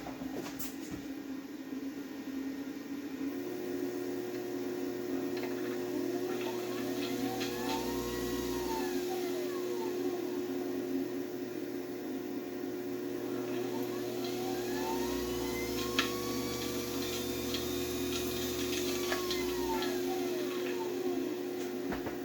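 A repaired treadmill motor mounted on a lathe spins up and runs with a steady electric whine and hum, rising and falling whirring tones sweeping through, rough and uneven throughout, with no voices.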